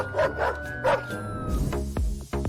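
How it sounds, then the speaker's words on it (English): Several unfriendly dogs bark and yip in quick bursts, loud and close, the calls overlapping into a busy, aggressive chorus with no talking. "the one on the left will end up face to face with these pretty unfriendly dogs"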